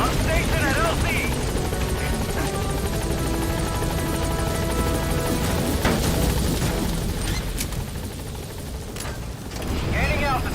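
Support helicopter in the Metal Gear Solid V video game, a continuous loud rotor and engine roar that fills the whole stretch, with brief thumps and bursts mixed in and short radio-style voice calls over it.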